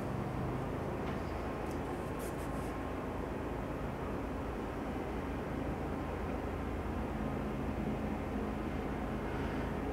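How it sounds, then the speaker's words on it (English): A snow plow works outside after a heavy snowfall, heard as a steady, dense broadband rumble and roar that fills the whole stretch at an even level, with a few faint higher clinks early on. "that's a snow plow working"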